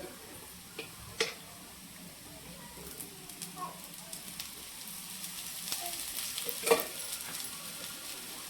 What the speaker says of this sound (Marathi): दुसरीकडून पण तसंच आपल्याला भाजून घ्यायचं.